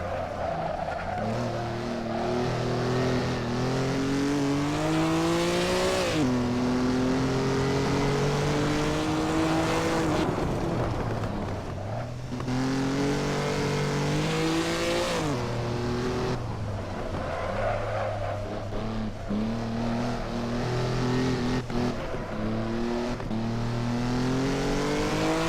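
A 1950s Formula 1 car in Assetto Corsa at the Dutch Grand Prix, its engine screaming through repeated rising revs and abrupt gear changes, loud and continuous with tire noise throughout.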